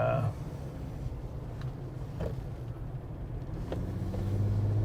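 A Jeep drives along a road, its engine and tyres giving a steady low rumble throughout, with a few faint clicks and knocks from inside the cabin.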